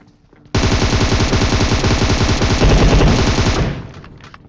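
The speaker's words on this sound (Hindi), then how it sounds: "अब इस बंदे को मारते समय मुझे एक शॉटगन की आवाज़ आई" Rapid sustained burst of gunfire in PUBG Mobile, loud and close, a dense stream of shots lasting about three seconds before cutting off into quiet.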